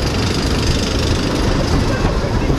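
A wooden roller coaster train at Efteling rolling off from the station, heard from the front row: a loud, dense, continuous rumble and clatter of wheels on track, sustained without pause.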